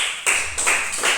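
Children in a classroom clap during a hide-and-seek game, three quick bursts of hand claps in a short run, fairly close and loud with no talking.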